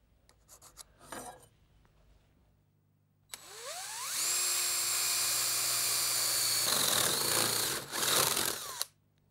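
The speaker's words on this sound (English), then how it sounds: "Now when we drill through, I'm going to come halfway from each side." A power drill bores through a wooden dining table leg, spinning up with a rising whine into a steady loud grinding that lasts several seconds, then slows and stops after some faint handling noises.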